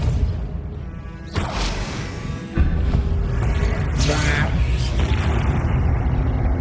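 An explosive Confringo spell blast in Hogwarts Legacy, a loud booming impact with a rushing swoosh and a crackling tail, layered over dense game effects and background sound.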